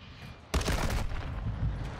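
Video game gunfire from a weapon fired from the hip, a sudden loud burst of rapid shots that keeps rattling densely for about a second and a half before easing into a quieter continued crackle.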